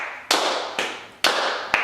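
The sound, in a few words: quiet hand clapping on beats 1 and 3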